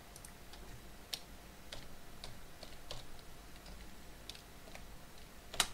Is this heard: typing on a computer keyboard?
yes